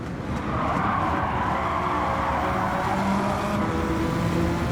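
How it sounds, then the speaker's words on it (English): Race car in Gran Turismo 7 at Willow Springs, engine droning loud and steady as it is driven hard into a corner, with faint tire scrub underneath and no voices. "I'm just going to launch the car at the corner"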